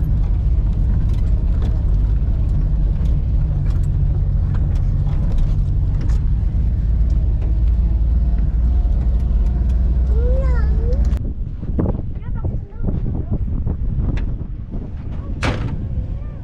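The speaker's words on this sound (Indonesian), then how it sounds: "Nah di belakang juga ada tuh ya mobil rombongan lagi, 3 jeep." Several jeeps travel together along a rough road to Bromo, giving a loud, steady rumble of engines and rattling mechanisms that drops in level near the end, with brief creaks and knocks.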